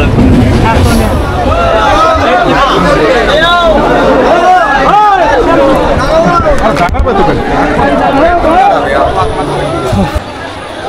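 A busy railway station platform fills with dense crowd chatter and overlapping voices, loud and close throughout, with a general rumble of movement beneath the babble.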